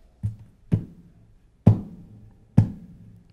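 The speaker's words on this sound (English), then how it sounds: "That's just the sound of me hitting the top of the guitar." Four sharp knocks on the top of an acoustic guitar body, each a hollow thump with a short woody ring, spaced irregularly and heard alone at close range.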